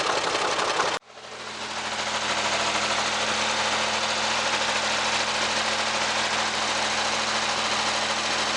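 A tractor engine running steadily in a crop field, a loud continuous diesel drone with a low hum and constant mechanical rattle, close up, after a brief dip near the start.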